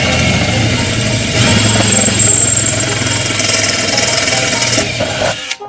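A power drill boring a hole through the frame of a Structo toy dump truck, a loud continuous grinding whine that runs steadily for several seconds before cutting off abruptly at the end.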